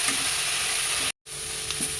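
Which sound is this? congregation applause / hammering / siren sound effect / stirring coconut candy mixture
stirring coconut candy mixture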